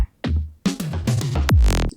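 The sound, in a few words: kick, tom and drum fill in a psytrance track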